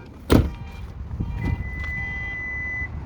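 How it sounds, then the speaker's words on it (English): Door of a locked Toyota Highlander being shut: a sharp close thud, followed by a soft mechanical whir and a sustained faint electronic tone from the car. "now I'll close the door"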